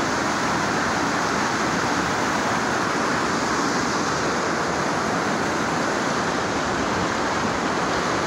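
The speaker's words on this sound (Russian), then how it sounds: "Ну а совсем рядышком находится вот сброс в речку Стрелку. Это сейчас такой мощный поток." Powerful outflow of water from the Peterhof fountain water supply system rushing into a small river, a dense, constant roar like a mountain stream, loud and unbroken with no voices.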